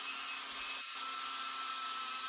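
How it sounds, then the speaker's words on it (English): A power drill with a 1/8-inch bit turns slowly into an old rear main crankshaft seal on a Porsche Boxster, a steady high-pitched whine holding level for the whole stretch without voices. "I'm just using an 1/8-inch drill bit,"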